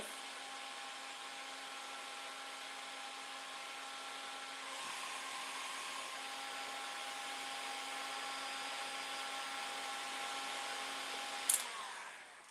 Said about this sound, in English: when you work with the heat gun, be careful